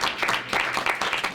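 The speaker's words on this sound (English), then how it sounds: "so that's round of applause." Applause at a public meeting after a five-year deal is approved: a short burst of many hands clapping steadily, moderately loud and dense, with a faint murmur of voices underneath.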